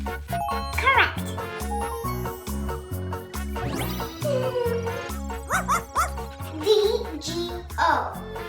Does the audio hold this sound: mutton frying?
no